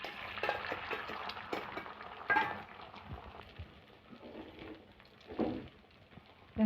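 Egg sizzling and frying in oil on a flat tawa griddle for an egg roll, a steady crackling hiss with a few louder spits and light scraping, close and alone without talk.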